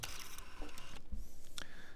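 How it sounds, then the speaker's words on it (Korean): Camera shutter clicks in the racing video game Forza Horizon 5 during a photo challenge, a couple of crisp, quick snaps over light background game sound. "여기에서 바로 보신 상태에서 사진 찰칵"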